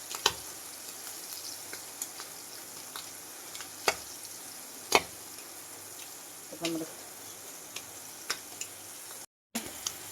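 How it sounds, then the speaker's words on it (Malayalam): Prawns frying in a pan at home while cooking for prawn biryani: a steady low sizzle with scattered sharp pops and crackles, fairly quiet and without talk. "ചെമ്മീൻ ഒരു സെറ്റ് ഫ്രൈ ആയി വന്നിട്ടുണ്ട്"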